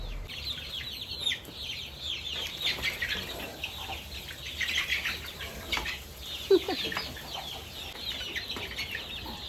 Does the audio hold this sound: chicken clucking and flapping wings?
yes